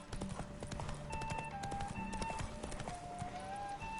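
Hooves of a horse in the Witcher 3 video game clip-clop in a steady galloping rhythm, close and continuous, with game music tones layered above.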